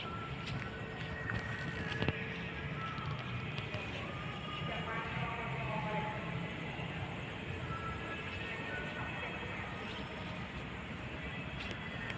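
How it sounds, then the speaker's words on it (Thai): Busy ambience of Hua Lamphong railway station in Bangkok, Thailand: a constant broadband rumble with murmuring voices and occasional clatter and announcements blending into the background. "สภาพบรรยากาศ ที่หัวลำโพงครับ"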